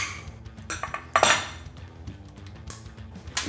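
Kitchen scissors snip through a cooked lobster's shell and meat, giving sharp crunching clicks and clattering shell, with one louder crackling burst in the middle, close and with no speech.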